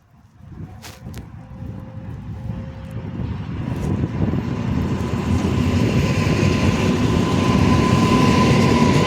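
An R1 regional train pulls out of Warszawa Włochy station, a broad rumble that swells steadily as it gathers speed, with a brief squeal near the start and a faint high whine above.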